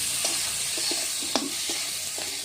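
Spice paste and chillies for a crab filling fry in hot oil, a dense, close sizzle broken by several quick scraping stirs of a spatula against the pan.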